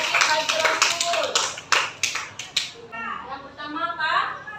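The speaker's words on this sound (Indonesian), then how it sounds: "Ya, tepuk tangan dulu untuk kawannya." Children in a classroom clap their hands in a quick burst of sharp, close claps for a classmate, mixed with children's voices, before the clapping stops and a voice speaks.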